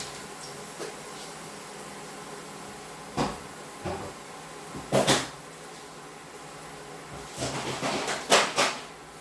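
Kitchen cupboard doors and contents knocked about while someone fetches yeast and tomatoes for homemade pizza: a few scattered thumps and clatters, then a busy cluster of knocks near the end, close by with no talking.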